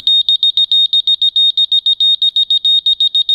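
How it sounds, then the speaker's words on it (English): An audible skydiving altimeter's deployment alarm, rapid piercing electronic beeps repeating in a fast, stuttering pattern, loud and continuous, with nothing else audible. "And this alarm is deployment."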